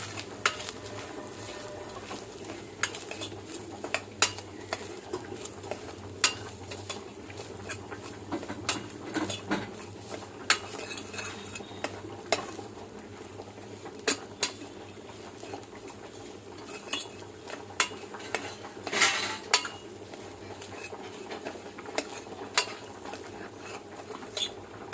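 Semolina (rava) poured into a grated coconut mixture in a pan and stirred, with soft scraping, light clinks of a spoon against metal and a steady low background hum, close and moderate with no talk.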